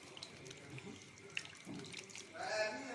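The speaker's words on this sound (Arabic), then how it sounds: "حطيت لهم حبه ملح وحبه صلصه، وهحط الشوربه" Broth is poured over stuffed zucchini and peppers in a pan before baking, a soft, quiet splashing and trickling of liquid that swells toward the end, with faint talk nearby.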